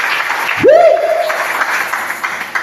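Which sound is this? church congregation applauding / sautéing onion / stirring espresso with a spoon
church congregation applauding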